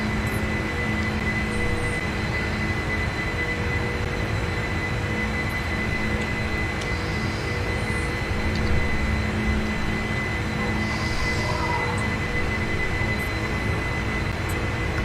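A heavily loaded Boeing 747 climbs after a takeoff from a runway shorter than 8000 feet: a loud, steady, unbroken jet engine roar with a constant whine that holds throughout.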